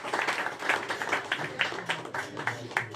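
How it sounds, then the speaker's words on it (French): Audience applause at a French women's sport event, moderate and somewhat distant clapping with rhythmic hand claps, no speech. "s'il vous plaît, vous pouvez applaudir"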